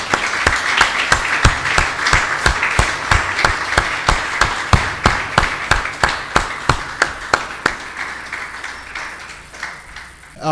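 An audience at an evening gathering claps in rhythm, with sharp, regular claps at a steady pace, loud and close, slowing and thinning toward the end, with a faint voice underneath.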